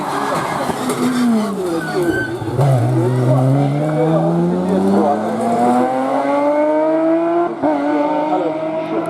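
A 700-horsepower latest-generation Porsche Cup race car climbs a hill-climb course. Its loud engine note rises and falls through gear changes, with a brief dip and a hint of tire squeal, and a commentator's voice runs faintly underneath.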